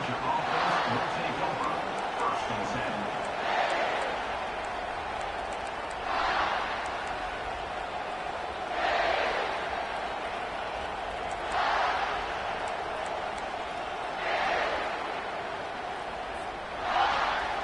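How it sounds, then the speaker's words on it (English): A football stadium crowd roars during a kickoff return, with a steady wash of noise swelling in repeated surges every few seconds under a commentator's voice. "The roar of the crowd trying to fuel this defense to keep them pinned in their own end"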